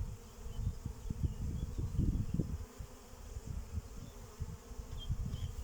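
Honeybees buzz at an open mother hive during a spring inspection, a close, low droning hum that swells and fades in uneven bursts, with occasional higher whines from individual bees passing near.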